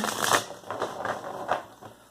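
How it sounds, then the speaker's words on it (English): A rapid riffling patter of cards being shuffled, several quick bursts in a row, close and moderately loud with no talking. "See if I can get a couple more good shuffles in."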